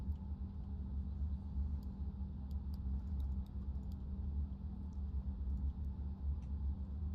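Airbus A320neo engines idling through a cooldown in a flight simulator game: a steady low rumbling drone with a faint hum, joined by scattered light clicks and taps, with no talking.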